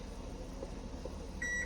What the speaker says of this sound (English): that's my oven preheating to